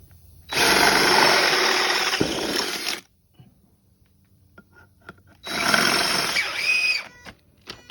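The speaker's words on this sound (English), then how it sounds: "These bolts are bigger than the locating tabs and the holes on the MAXUM dry flange, so we will need to drill these out." Power drill boring out bolts on a MAXUM 2100 boat dry flange, two loud sustained bursts of drilling separated by a quiet gap with small clicks and handling noises.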